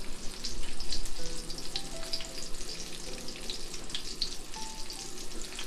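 Food fries in a pan, giving a steady crackling sizzle with scattered sharp pops and spits at moderate loudness, heard on its own without talk.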